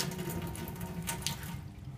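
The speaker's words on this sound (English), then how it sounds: "we're going to fill up the glove with some water" Water from a tap pours into a rubber hospital glove over a sink, a steady close rush with faint gurgles and shifting splashes as it fills.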